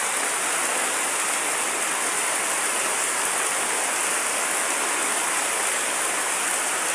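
Heavy rain pours down in a dense, steady roar of hiss, constant and loud throughout with no pauses or voices.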